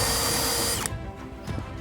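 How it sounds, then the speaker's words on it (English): A power drill bores part way through a wooden board for a bolt-and-cone foundation, a loud high whine that cuts off sharply near the end, followed by quieter mechanical rattles. "I drill part way through with these and then flip them over and drill part way through"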